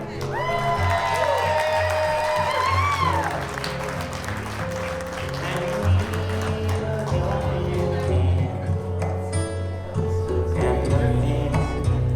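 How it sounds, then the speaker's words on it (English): Wedding reception crowd applauding and cheering for the bride and her father after their dance, steady clapping with whoops and music carrying on underneath for the whole stretch. "please put a big round of applause for the bride and her dad"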